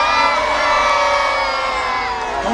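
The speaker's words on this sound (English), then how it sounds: "Come on, let's hear you cheering." A large crowd at a Roman gladiator show cheers and shouts continuously, a dense, loud roar of many voices including children, sustained throughout without a break.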